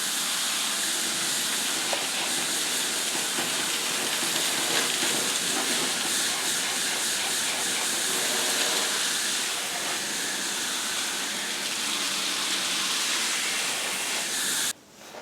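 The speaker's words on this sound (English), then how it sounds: "we're going to hit the sprayer one more time." Steady high-pressure spray hissing through the full length while cleaning the fins of a home A/C condenser, loud and close, cutting off abruptly just before the end.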